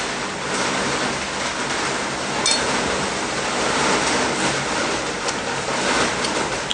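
Heavy rain with large raindrops pours down in a steady, dense roar that stays loud and even throughout, with no voices.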